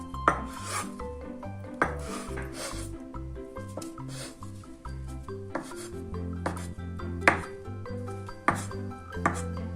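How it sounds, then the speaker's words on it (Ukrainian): A knife chops a boiled egg finely on a board, with irregular sharp taps and scraping strokes, close and fairly quiet, with music underneath. "Дрібно нарізаємо варене яйце та додаємо до авокадо"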